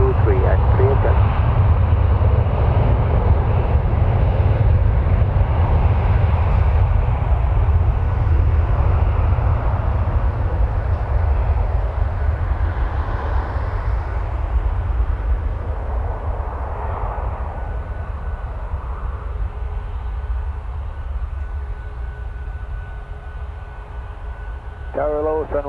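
An airliner taking off at Toronto Pearson Airport gives a long, loud, steady jet engine roar that fades slightly over time, with faint radio chatter in the background.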